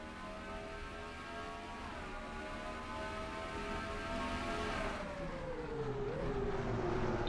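Race cars in a stock car racing game get under way at Road America, a steady engine drone building in pitch and loudness as the field accelerates, with the roar swelling and shifting near the end.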